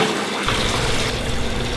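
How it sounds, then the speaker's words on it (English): A kitchen tap runs into a pot while lentil stew is being prepared, the splash starting abruptly and continuing as a loud, close, steady rush of water with no talking over it. "I'm gonna get water."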